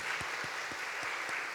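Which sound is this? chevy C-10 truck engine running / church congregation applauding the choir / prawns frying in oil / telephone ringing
church congregation applauding the choir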